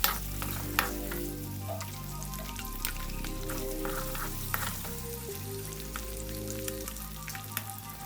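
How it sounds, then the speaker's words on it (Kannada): Eggs sizzle and crackle in a tablespoon of hot oil for an egg pepper gravy, with a steady frying hiss, scattered pops and a few utensil clinks, no one speaking. "ಮೊಟ್ಟೆಗಳನ್ನ ಫಸ್ಟು ಅದರಲ್ಲಿ ಫ್ರೈ ಮಾಡ್ಕೊಳ್ತೀನಿ"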